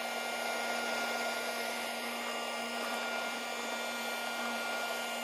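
A tiny handheld vacuum cleaner runs steadily and close, a constant high whine with a strong motor tone, alone with no talk.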